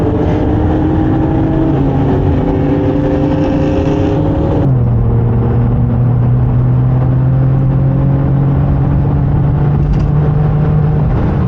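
Jaguar F-Type R, Audi S4 and Infiniti Q60 RS accelerating hard side by side in a drag race, loud engine roar with rising harmonic tones that shift at gear changes, continuous and close, no talk.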